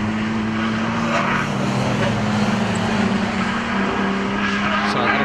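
A Porsche race car in the BRSCC Porsche Championship at Croft drives past on the circuit. The engine drone is steady and sustained at moderate loudness, with a faint commentator's voice underneath.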